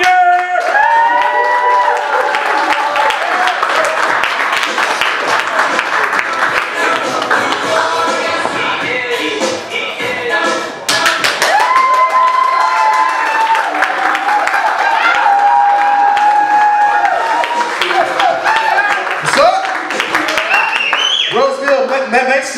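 A comedy club crowd at the Roseville Eagles Lodge claps and cheers as comedian Michael Calvin Jr. takes the stage: loud, sustained applause with whoops and shouting voices, plus music-like tones running underneath.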